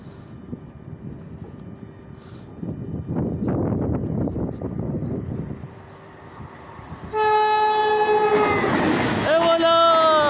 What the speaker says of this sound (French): Allez, TGV derrière.